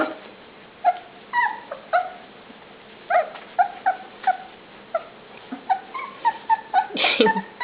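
Puppies whimper and yip in short, high-pitched squeaks, repeated steadily throughout, with a louder scuffle near the end.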